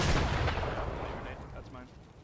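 A grenade blast in a shooter video game, with a loud booming explosion at the start that rumbles and fades away over about two seconds.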